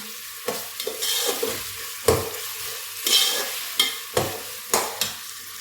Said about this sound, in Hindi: एक मिनट के लिए भून लेंगे हम।